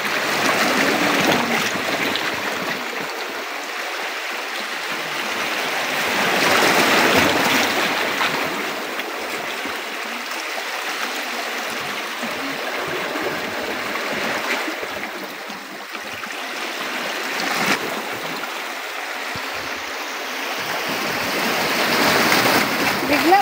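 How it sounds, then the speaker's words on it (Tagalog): Sea waves wash and surge in slow swells with wind noise, rising and falling across the whole stretch, with voices talking over the water. "Bigla man naglaki ang alon day, no?"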